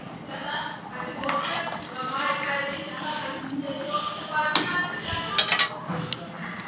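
Japanese puti fish go into a cooking pot with clanks and taps of metal pot and utensils, some sharp knocks scattered through, while someone talks over the kitchen sounds.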